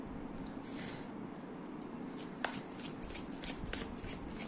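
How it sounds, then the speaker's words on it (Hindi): Tarot cards are shuffled and drawn from a deck, soft papery riffling and sliding with a few light taps and flicks, close and quiet, no talk. "दूसरे डेक से 5 कार्ड्स निकालते हैं"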